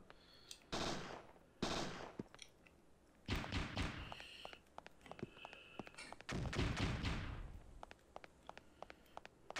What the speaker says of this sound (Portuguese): Atirou meio aleatório, não apareceu laser.